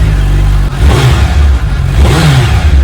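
A Suzuki Hayabusa superbike's engine revs hard and close, the exhaust note climbing and falling in two loud surges with a brief dip between, no talk over it.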